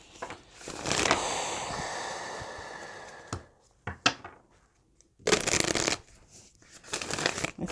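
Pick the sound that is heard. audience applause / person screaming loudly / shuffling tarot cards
shuffling tarot cards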